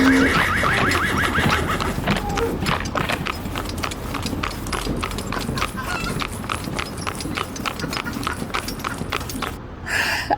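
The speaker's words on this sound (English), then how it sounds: "The horses, you can hear the horses," Horse hooves clip-clop in a steady, brisk rhythm as the horse pulls a buggy, over continuous outdoor rumble, close and clear, with a brief louder burst near the end.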